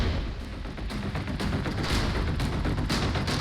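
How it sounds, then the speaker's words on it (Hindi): Russian artillery and rocket shelling on a city in Donetsk during the Ukraine war produces a dense, rumbling barrage of rapid, overlapping blasts and thuds that continue without a break. "रूसी तोप और रॉकेट लगातार शहर पर बारूद बरसा रहे हैं।"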